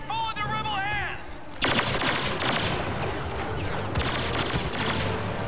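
Rapid bursts of blaster gunfire in Star Wars Battlefront Supremacy mode, following a brief electronic warble, then sustained dense volleys loud and close with a short pause before firing resumes.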